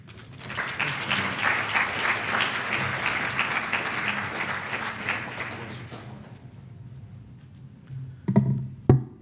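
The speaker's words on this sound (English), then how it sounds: "Let's give another round of applause for Congressman Elijah Cummings" An audience applauds Congressman Elijah Cummings at a movie screening event, a broad steady wash of clapping that fades out midway, followed by a few louder nearby sounds near the end.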